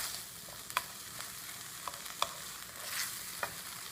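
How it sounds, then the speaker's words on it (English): Tomatoes and coriander sauté in a pan for a moong dal tarka, with a soft continuous sizzle and a few sharp spoon scrapes and taps at irregular intervals. "And then I sauteed some more"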